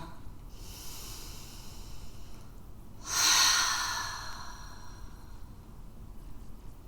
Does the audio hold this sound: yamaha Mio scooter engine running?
no